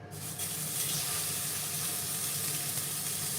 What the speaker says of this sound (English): The sound of meat frying.